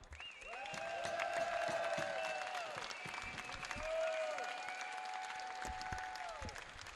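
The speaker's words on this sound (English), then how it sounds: "Fans, let's have a round of applause for Vassar College" Fans at the 2024 NCAA Division III men's volleyball national championship applaud the runner-up, a soft wash of clapping in a large hall with sustained tonal sounds layered over it.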